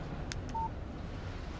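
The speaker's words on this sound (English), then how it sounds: "Text message from Barry." A cell phone in the Alan Wake video game gives a short text message alert, a brief clear electronic tone over a low steady background hum, with no talking.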